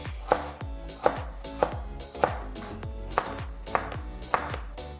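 Steady knife chops on a cutting board, about eight firm, evenly spaced strokes dicing peeled carrots, close and clear with no talking.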